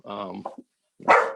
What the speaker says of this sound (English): Excuse me, that's my dog, Rosie.